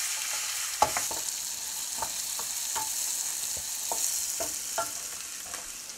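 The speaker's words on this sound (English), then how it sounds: "we want to saute this over a medium heat for about 10 minutes until it gets nice and tender" Jalapeno peppers sautéing in a pan over medium heat, a constant soft sizzle broken by a string of light spatula scrapes and taps at an uneven rhythm, no voices.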